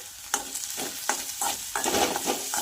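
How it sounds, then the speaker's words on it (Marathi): Spice powders, including black pepper powder, fry in a pan for moong dal and wheat flour matri over medium heat, heard as a few sharp spoon scrapes and stirs over a soft, steady sizzle, with no talking. "आणि छान एक ते दीड मिनिट याला फ्राय करून घ्यायचं आहे"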